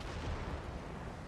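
Cannon fire in Napoleon: Total War, a dense rumbling burst of distant artillery booming with a noisy, smeared wash across the short span, no talk over it.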